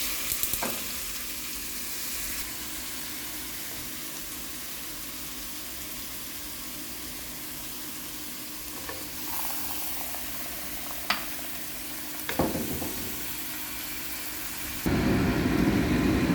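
Garlic frying in a pan before venison goes in, a steady close sizzle with a few scattered clinks and scrapes, ending in a louder burst of hissing.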